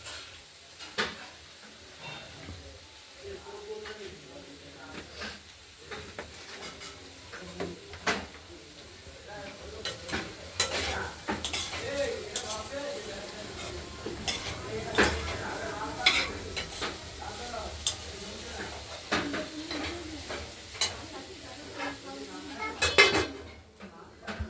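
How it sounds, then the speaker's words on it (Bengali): Cauliflower and small diced potatoes frying in oil in a kadai are stirred, with a metal spoon repeatedly scraping and clinking against the pan over a soft sizzle, the clatter growing busier and louder; a voice talks intermittently underneath. "ফুলকপিগুলোকে আমরা নেড়ে দিলাম"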